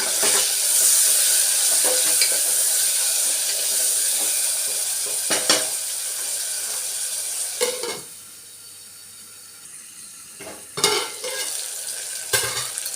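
Tomatoes being stirred into a cooking pot for a cluster bean curry, with a strong sizzle that fades midway and sharp spoon clanks and scrapes against the metal, close and without speech.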